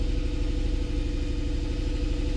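Mercedes E63 AMG engine with a misfire problem, held at a steady 1500 RPM idle: a continuous, even, close-up rumble with a slight uneven throb and no voices.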